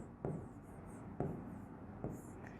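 Pen or marker writing a formula on a board during a trigonometry lesson, three short distinct strokes spaced about a second apart, close and fairly quiet, with no talk over them.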